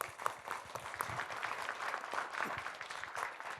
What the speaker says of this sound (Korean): 박수 한번 보내주실까요?